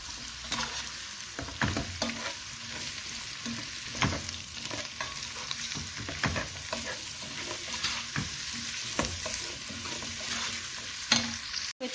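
Ridge gourd with green chillies stir-frying on high heat in a pan, a continuous sizzle broken by repeated scraping and stirring knocks.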